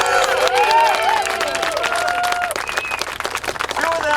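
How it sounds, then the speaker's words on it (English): Crowd applause and cheering at an outdoor pipeline protest rally at a county fairground, honoring landowners, with steady clapping and voices calling out over it. "let's give them all a big round of applause"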